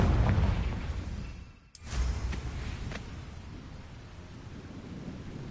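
A Confringo blasting spell explodes in Hogwarts Legacy, a single sharp boom followed by a long rumbling decay under steady low ambient noise.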